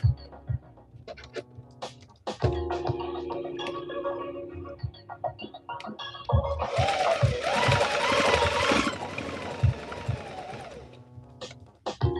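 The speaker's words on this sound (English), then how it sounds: "It's not just sewing because I'm sewing right now." A sewing machine runs in a home workspace with music production nearby, a busy whirring stretch in the middle amid ticks and clicks, with a brief break before it resumes.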